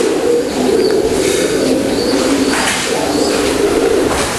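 A racing pigeon, a proven champion, coos in a steady low rhythm of repeated phrases, close and loud, with no other voices.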